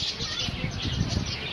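Birds calling at a farm: a steady, busy mix of chirps and calls, fairly close and continuous, over a low background hum.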